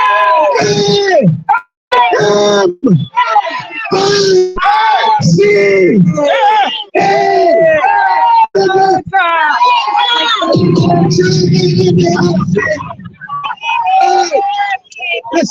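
An outdoor protest crowd in New York roars and cheers over amplified speech, with a dense swell of shouting voices rising near the end while a speaker talks.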